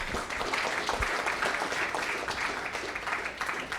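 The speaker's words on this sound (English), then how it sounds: "round of applause?" Audience clapping at a judged presentation event, a faint, even patter of many hands that holds steady throughout at a distance.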